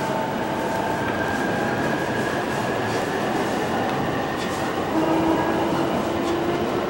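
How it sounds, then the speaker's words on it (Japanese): A JR Joban Line train bound for Mito, near Tomobe in Kasama, Ibaraki, rumbles steadily throughout with constant wheel and motor noise and faint tonal whines, heard from on board, with no talking. "この電車は常磐線水戸行きです。"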